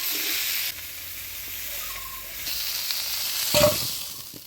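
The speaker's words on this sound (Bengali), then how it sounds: "আলু ফুলকপিটা ভেজে নিলাম, এবার নামিয়ে নিব।" Potato and cauliflower pieces frying in hot oil in a Bengali home kitchen, giving a steady, close sizzle with occasional stirring scrapes of a utensil in the pan.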